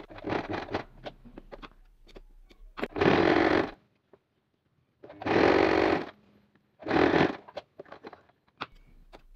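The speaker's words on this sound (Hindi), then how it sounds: "दूसरे स्ट्रैप को भी मैं इसी तरीके से सिलाई करके बंद कर लूँगी" A sewing machine stitches the strap of a fabric hijab cap in three separate motor bursts, each a second or so long, with light clicks and fabric handling in the quiet gaps and no talking.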